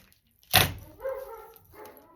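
A house dog barking at passers-by: a sharp loud bark with a thudding onset, followed by two quieter, more tonal yelps or whines a moment later, close by with no one talking.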